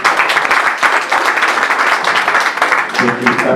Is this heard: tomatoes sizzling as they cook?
no